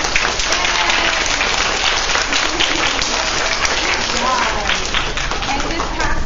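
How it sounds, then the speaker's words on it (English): A presentation audience breaks into sustained applause, a dense, steady wash of clapping with some voices and cheering mixed in, continuing throughout. "can we applaud for Brandon real quick?"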